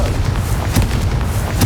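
Hogwarts Legacy's Confringo spell lands as a loud, near explosion, a heavy rumbling roar with a couple of sharper thumps inside it, all at close range.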